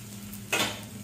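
Fried chicken being lifted out of a pan of shallow oil, a single short clatter of utensil on cookware over a soft sizzle, close and moderately loud, with no one talking.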